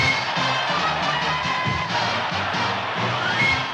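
A sellout stadium crowd at a 1978 Atlanta Falcons playoff football game roars and cheers in a loud, continuous swell with no pauses.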